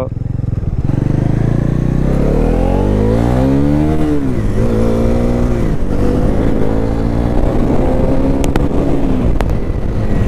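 A motorcycle engine revs and accelerates on a bike ride, loud and close, its pitch rising and settling through gear changes under constant wind rush.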